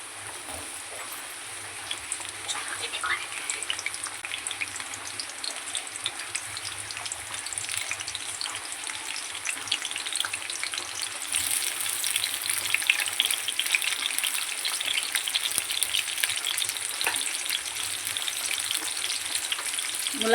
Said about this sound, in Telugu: ఆయిల్ హీట్ అయింది, జీలకర్ర కూడా వేగిపోయాయి. ఆ తర్వాత ఆనియన్ ముక్కలు వేసుకుందాం.